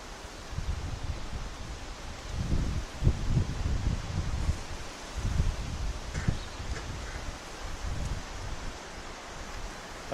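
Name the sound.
strong wind blowing outdoors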